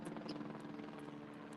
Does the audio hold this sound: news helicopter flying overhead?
yes